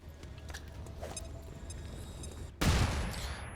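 A flashbang grenade going off in the strategy game XCOM Long War: a sudden loud broadband burst after a quiet stretch of game ambience, followed by a short decaying roar, with no talking.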